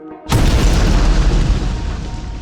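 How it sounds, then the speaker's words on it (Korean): A sudden, loud explosive boom of fireworks bursts out and rolls into a long, rumbling crackle that slowly fades. "거의 폭탄이 터지는 소리나 다름없는 폭죽이 터졌습니다"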